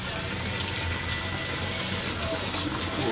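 Water pouring steadily into a brewing pot for a lime hefeweizen home brew, a continuous splashing rush of moderate loudness with no talk.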